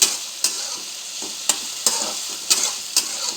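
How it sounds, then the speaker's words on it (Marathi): Okra frying in hot oil with a bright, steady sizzle, broken every half second or so by sharp stirring scrapes; close and loud, no voices. "भेंडी तेलात भाजून घ्यायची"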